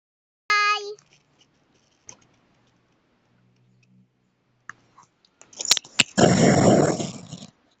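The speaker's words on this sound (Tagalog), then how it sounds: "Aso yung tumahol kanina." A dog gives a single short, sharp bark near the start while playing the Roblox game Murder Mystery 2. Faint clicks follow, and a loud, noisy burst of other sounds comes near the end.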